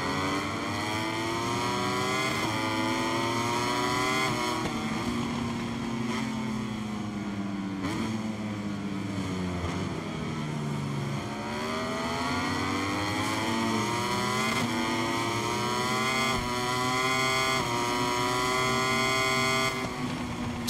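Racing motorcycles in the video game MotoGP 23 whine continuously at high revs, several engines layered with rising and falling pitch as they shift and accelerate, loud and sustained throughout without talk.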